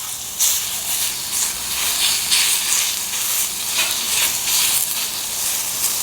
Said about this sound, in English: Just need to stir fry this 3 or 4 minutes.